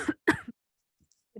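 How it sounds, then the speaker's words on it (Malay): Two quick coughs or throat clearings from one person, close and fairly loud, followed by a pause and a faint murmur at the end. "dia batuk dah."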